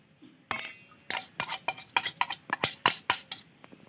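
Thick flour batter is poured and stirred into Maggi noodles, a rapid series of close, sticky scraping and clinking strokes against the bowl.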